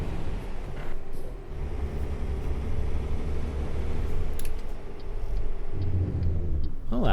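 A Peterbilt 389 in American Truck Simulator rumbles with its engine brake engaged, a steady loud low growl sustained throughout with slight pitch shifts near the end.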